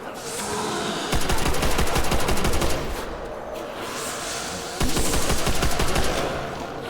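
BAR rifle in World at War Zombies on Nacht Der Untoten, rapid automatic fire in two long loud bursts separated by a pause, set against a dense background of game noise.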